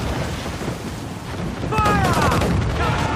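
A rumbling barrage of enemy ship cannon fire booms in a naval battle in Assassin's Creed IV: Black Flag, rising into a dense, roaring volley with crackling debris and splashes, while a voice shouts in the mix.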